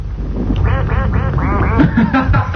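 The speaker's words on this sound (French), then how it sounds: "Je pense que le canard est le même que l'on m'avait offert, qui a quand même couiné pendant 1 an chez moi" A squeaky rubber toy duck squeaked several times in quick succession, loud and close, with a bit of voice mixed in underneath.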